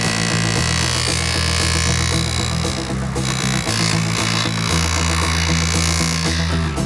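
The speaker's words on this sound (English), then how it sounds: "now that we've buffed, we use this buffing wheel, we're going to polish" A buffing wheel spins against metal brightwork coated with compound, giving a loud, continuous whirring grind whose pitch dips and returns as pressure changes.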